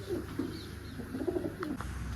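Soft, low pigeon coos repeat in short phrases close by, over a quiet background with faint distant noise.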